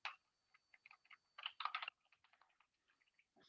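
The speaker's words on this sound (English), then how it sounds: "I'm typing something" Fingers type on a computer keyboard, close and crisp, in irregular bursts of quick clicks separated by brief pauses, with no talking.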